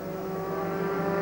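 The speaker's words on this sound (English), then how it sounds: "These cars are absolutely stock standard Ford lasers." Stock standard Ford Laser race cars in a 1993 Gold Coast Indy Carnival Pro-Am race, their engines droning in a steady, sustained mechanical whine at moderate distance.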